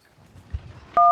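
A phone number is dialed, with faint soft handling at first, then a sharp, loud keypad tone that sounds at the very end.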